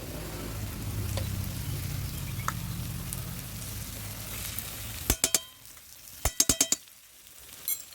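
Garam masala and ghee sizzling in a pan for Bengali banana flower ghonto, a soft steady frying hiss that fades, followed by several sharp metallic clinks of a spoon against the pan.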